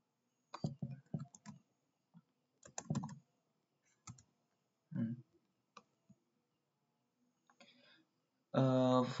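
Computer keyboard typing commands on a Windows system: sparse, close clicking keystrokes in small clusters with gaps, ending in a quick rattling burst of keys, with a quiet voice speaking around them.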